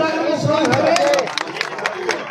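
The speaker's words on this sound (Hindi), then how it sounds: "जोरदार तालियां" Crowd at a BJP political election rally in India clapping loudly and steadily, with shouts and chatter of supporters mixed into the dense applause.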